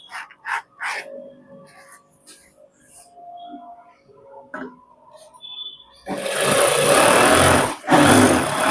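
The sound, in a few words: sewing machine stitching a pant belt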